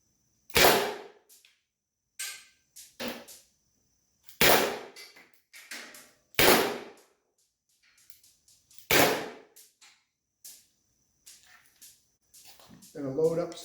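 Byrna SD launcher firing balls indoors in a garage, several loud sharp pops spaced a couple of seconds apart, with softer thuds and rattles of balls bouncing around between shots.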